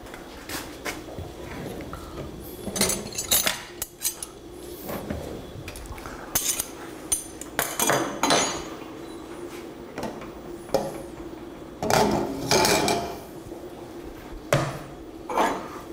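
Dishes and cutlery clink and clatter in irregular bursts while plating beef stroganoff and rice, with scraping and light knocks against a quiet background, close by.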